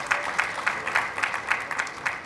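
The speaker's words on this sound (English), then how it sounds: "and they are clapping." An audience claps in steady unison at a gathering with general officers present, the claps falling in an even beat of roughly three per second, loud and close.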